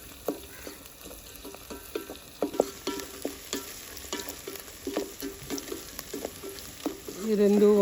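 Green chillies and onion frying in a pan: a low, crackly sizzle with frequent stirring clicks and scrapes, fairly quiet, swelling louder near the end.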